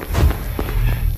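Heavy footsteps from an animatronic thud in a Roblox horror game, a few close, loud steps in quick succession over a low rumbling background.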